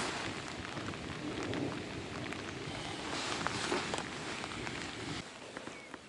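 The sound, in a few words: rain falling during fishing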